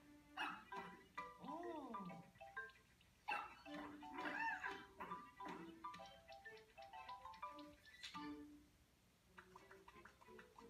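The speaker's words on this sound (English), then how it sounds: "And it's the undo dog." A barking dog sound effect from the Super Mario Maker 2 video game, the undo dog, yips and barks several times in quick bursts, clearly heard alongside game music and chimes while people talk over it.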